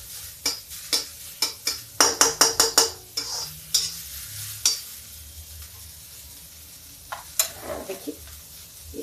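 Finely chopped onion frying in a pan for a dry cluster bean dish, a spatula scraping and stirring in quick repeated strokes over a steady close sizzle, with the strokes thinning out toward the end; no talking.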